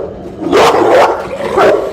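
A dog barks at a person, giving three loud, close barks in quick succession, each a short harsh burst.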